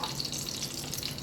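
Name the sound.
desi ghee and butter sizzling in pan for tempering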